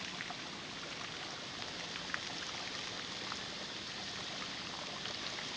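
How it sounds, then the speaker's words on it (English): A waterfall tumbling into an infinity pool at Woy Woy on the Central Coast, heard as a steady, dense rush of falling water that holds an even level throughout, with no voices. "Let's see if I can get the waterfall in the background as well"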